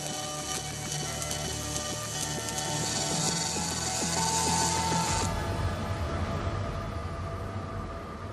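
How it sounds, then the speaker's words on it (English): A welding robot in a Tesla car factory runs its program, giving a continuous, busy whir of motors and mechanisms with rapid clicking and ticking, and a bright high hiss that cuts off abruptly partway through. "The robot works out the most efficient route and runs the program."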